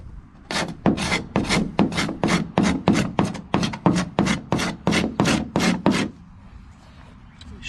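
A blade shaves high spots off the wooden hull of a 12-foot Wood Duck hybrid kayak in about a dozen quick, evenly spaced rasping strokes, close and loud, then stops.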